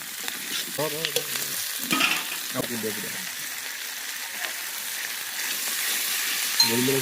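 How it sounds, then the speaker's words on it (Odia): Onion and capsicum fry in a pan for chilli cabbage, a steady sizzle with occasional stirring scrapes, while a voice speaks in short bursts over it. "ଭଜା ଚାଲିଛି, ପିଆଜ ଆଉ କ୍ୟାପ୍ସିକମ୍ ଭଜା, ଚିଲି କୋବି ପାଇଁ ପ୍ରସ୍ତୁତି।"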